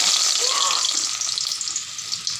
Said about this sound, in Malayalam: നമുക്ക് ആദ്യം ഇതിലോട്ടേ വെളുത്തുള്ളി ഇടാം.